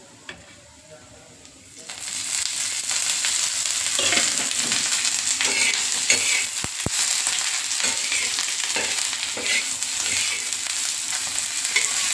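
Onion roasting in oil on an iron tava for a black masala fish curry, a steady loud sizzle that kicks in after a quiet start and carries on with scattered crackles and a couple of sharp pops.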